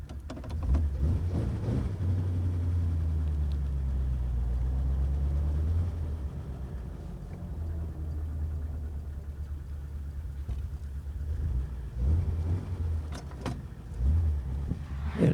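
A 1947 Ford Coach idles with a deep, steady engine rumble that then shifts pitch as the car pulls away and drives, a continuous mechanical drone with some clunks.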